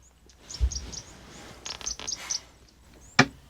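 A tawny-flanked prinia calling outdoors, giving a few thin, high chirps scattered over a soft background, followed by one sharp, close click-like note near the end.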